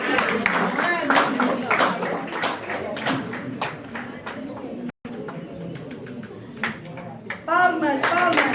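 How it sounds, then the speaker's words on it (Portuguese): Applause at a journalism diploma ceremony: a crowd claps steadily and close, with a brief pause partway before the clapping resumes, as an announcer speaks over it. "Palmas, palmas."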